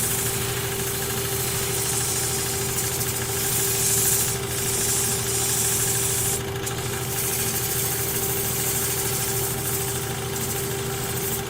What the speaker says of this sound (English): turn the lathe on, spring this in.